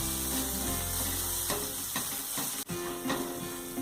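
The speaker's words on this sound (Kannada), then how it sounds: "ಫ್ರೈ ಮಾಡ್ಕೊಳ್ಳೋಣ." Ginger and green chili paste frying in a pan for vegetable samosa filling, a steady sizzle with a few stirring clicks and scrapes, close and alone.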